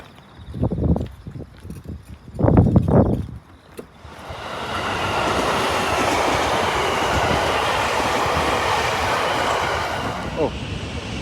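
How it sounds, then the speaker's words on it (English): After a few brief noises, a Japanese bullet train rushes past nearby with a loud, sustained roar lasting several seconds. "Oh, there goes a bullet train."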